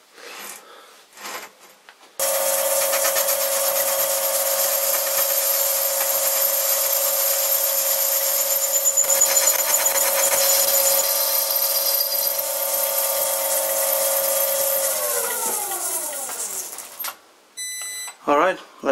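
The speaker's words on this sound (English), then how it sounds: "now I'm going to chamfer the thread on the outside here" A cutting tool chamfers the outside thread of a nut held in a cheap collet chuck on a spinning machine, producing a loud, steady whine with a grinding edge that winds down near the end, with brief sounds before and after.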